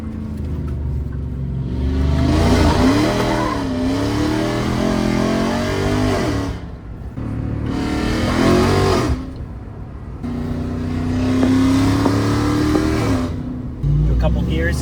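Ram TRX V8 with Valvetronic Designs universal mufflers, valves open, roars loudly through several gears, each long pull climbing in pitch before a brief drop at the shift, heard from inside the truck with a voice talking over it.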